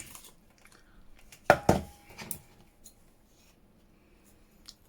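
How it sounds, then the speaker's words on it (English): Dull scissors strain through tough material, giving two sharp snipping crunches close by, followed by a smaller cut and faint handling rustles in an otherwise quiet room. "These are the world's worst scissors."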